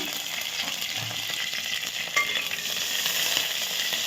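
Onions, green chillies and curry leaves frying in oil for a goat curry, a constant soft sizzle with occasional light stirring scrapes, close and low in level.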